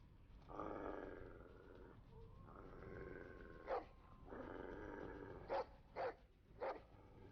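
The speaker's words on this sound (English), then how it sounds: "That is one evil-looking dog." Snarling, barking growls from a menacing dog in a Game of Thrones video game, a sustained rough growl followed by several short, loud bark bursts near the end, with the scene's score underneath.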